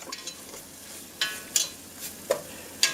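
A flour roux on low heat gets stirred in a pan, with a faint bubbling sizzle underneath and a few distinct scraping strokes of the spoon coming at irregular intervals.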